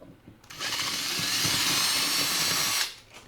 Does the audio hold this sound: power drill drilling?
yes